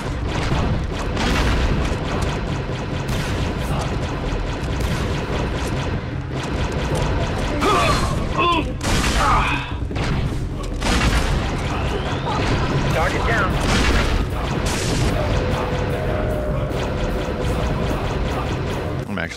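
A turret in the Star Wars Republic Commando video game fires in repeated heavy booms and blasts amid chaotic combat noise, with a person talking over the action.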